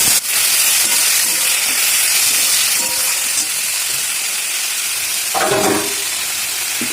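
Boiled beetroot and carrot tipped into a hot frying pan with tomato, giving a loud, steady sizzling hiss that fills the whole moment, with a few soft stirring scrapes.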